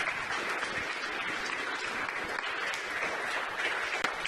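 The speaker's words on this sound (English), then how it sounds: "Please applaud." Sustained audience applause at a live Munich competition event, dense and steady from start to finish with no voices over it.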